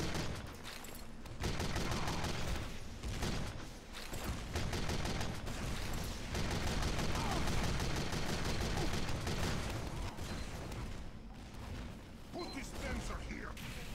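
Rapid bursts of video game gunfire and mechanical weapon clatter fill the clip at a loud, dense, continuous level, with rattling volleys overlapping throughout.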